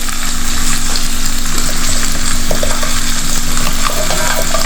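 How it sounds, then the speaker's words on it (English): Jackfruit core pieces fry in oil and masala for a Kerala-style curry, a loud, close, continuous sizzle and crackle that runs unbroken throughout. "Just keep sauteing it and allow it to cook."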